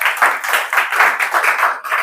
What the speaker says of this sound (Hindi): बस ताली बजा दो, ऐसा